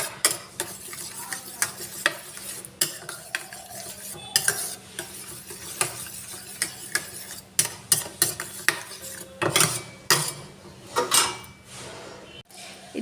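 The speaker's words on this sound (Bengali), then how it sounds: "ডিম, নুন, পেঁয়াজ লঙ্কা ভালো করে ফেটিয়ে মিশিয়ে নেব।" Eggs being beaten with salt, onion and chilli make a quick run of clicks and taps against a bowl, close and moderately loud, with a faint sizzle underneath.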